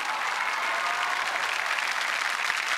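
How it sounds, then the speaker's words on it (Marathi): A studio audience applauds continuously on a Marathi TV comedy show, a dense, steady clapping crowd with no pauses. "जोरदार टाळ्या झाल्या पाहिजेत।"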